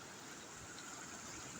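Floodwater rushes steadily across a submerged road after a short rain, a continuous, even wash of water without voices.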